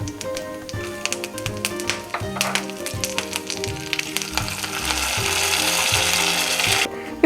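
Mustard and fenugreek seeds spluttering in hot oil while tempering a Tamil vathal kuzhambu, a close, busy crackle of sharp pops and ticks that swells into a dense sizzle toward the end.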